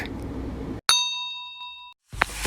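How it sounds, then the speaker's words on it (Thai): A single bright notification bell ding rings out alone and decays slowly over about a second, preceded by a burst of noise and followed by a brief speaking voice. "อย่าลืมกดกระดิ่งหน้าเพื่อรับแจ้งเตือนคลิปใหม่ ๆ นะคะ"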